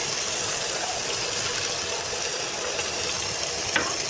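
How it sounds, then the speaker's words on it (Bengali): Eggplant pieces fry in oil in a home kitchen pan, giving a steady, close broadband sizzle that holds level throughout, with a faint clink near the end. "এবার উল্টিয়ে পাল্টিয়ে একবার বেগুনগুলো ভেজে নিব ভালো করে।"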